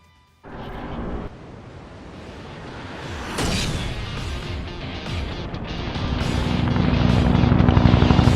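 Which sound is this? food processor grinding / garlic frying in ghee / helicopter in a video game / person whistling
helicopter in a video game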